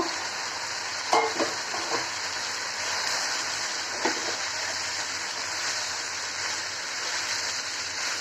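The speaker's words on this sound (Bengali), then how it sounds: "ভালো করে মিশিয়ে দিচ্ছি।" Boiled vegetables are stirred in a hot frying pan for a Chinese-style vegetable dish. A constant close sizzle is broken by a few sharp scrapes and clanks of the spatula early on, with no voices.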